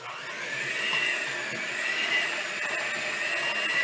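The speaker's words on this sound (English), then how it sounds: "we're just going to blend until it gets smooth and creamy" An electric hand mixer whirs steadily through boiled potatoes with about three-quarters of a cup of milk, blending cheesy mashed potatoes on a low speed setting, a continuous close motor drone with no talking.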